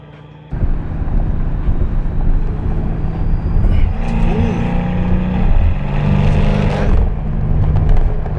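A BMW F10 M5 being driven, its engine droning loud and close from inside the cabin after a quiet start, with rising revs and a swelling roar later on.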